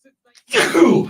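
One sharp human sneeze, a sudden loud explosive burst after near silence, close to the microphone.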